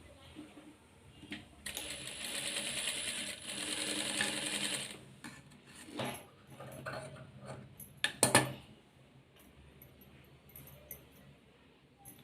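Domestic sewing machine stitching round neck piping on a garment, quick bursts of rapid mechanical stitching with pauses between runs, close and fairly quiet, handling clicks in the gaps.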